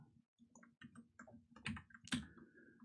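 Typing on a computer keyboard during a HackTheBox hacking session, a quiet run of irregular key clicks with a couple of louder taps near the end, no speech.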